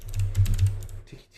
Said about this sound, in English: Nah, mechanical keyboard, man.